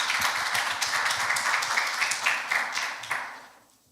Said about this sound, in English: Can we have another round of applause for Dr. Hushak?